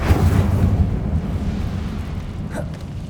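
A fire spell cast in Hogwarts Legacy bursts out with a deep, rumbling whoosh that fades over a few seconds, followed by a faint crackle.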